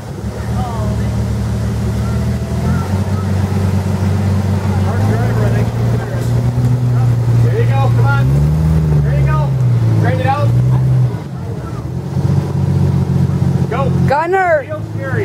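A Jeep engine revs and labours off-road over rocks and bumps, a loud, steady low drone that rises and falls, with people talking over it.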